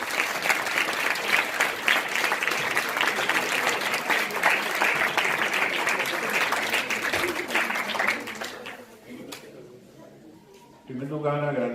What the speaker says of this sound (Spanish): Le pido que lo recibamos con un fuerte aplauso